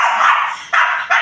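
A dog gives three loud, close barks or yips in quick succession, each a sharp harsh burst with short gaps between, and no talking over them.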